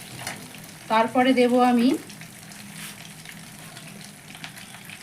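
Prawns frying and foaming in hot oil for a Bengali doi chingri dish give a steady, low crackling sizzle that runs underneath a short burst of speech.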